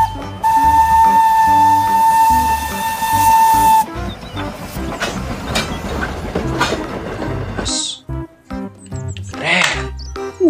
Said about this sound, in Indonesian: Dan ini lihat, ada kereta api Thomas.